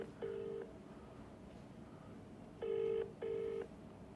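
A telephone call rings out unanswered, with three electronic ringback-style tones repeating over faint background hiss, the first alone and the last two close together in a pair.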